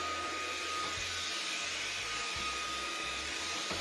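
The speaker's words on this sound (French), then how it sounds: "Différents tests d'aspiration de rideaux ou encore à l'intérieur de la voiture. Donc ça aspire pas mal." A Jimmy PW 11 Pro Max vacuum cleaner runs close by with a steady, loud whooshing suction roar and a faint high whine, unbroken for the whole stretch with no talking.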